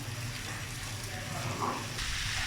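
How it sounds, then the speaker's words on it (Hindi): Food frying in a pan over a low flame for a breakfast dish, giving a faint, steady, continuous sizzle that hisses evenly throughout with no clear breaks. "ये फ्राई होना शुरू हो गया"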